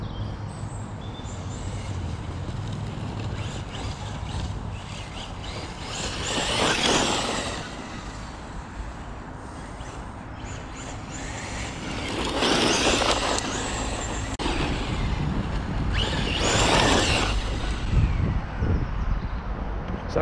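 A Traxxas Slash 4x4 VXL RC truck drives around outdoors, its motor whining up in three loud passes close by, fading between runs over a steady background of wind.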